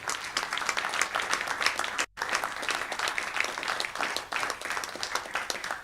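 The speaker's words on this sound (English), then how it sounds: "Sure, we can applaud." People applaud during a city council meeting in the chamber, with brisk, dense clapping sustained for several seconds and a momentary cut partway through.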